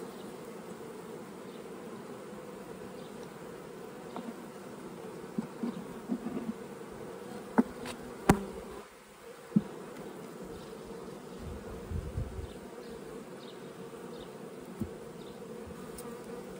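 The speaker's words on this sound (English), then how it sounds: "got some young bees still emerging" Honey bees buzz on a hive frame with young bees emerging and stored pollen, a steady close drone of many bees with occasional sharp clicks and knocks from handling, no talking.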